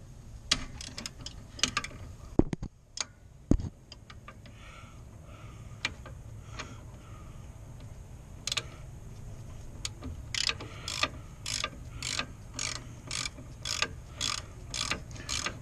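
A ratchet with a 14 mm socket loosens the rear brake bracket bolts on a Chevy Impala, producing rapid rhythmic clicking in steady bursts, faint and close, with scattered metallic clanks early on.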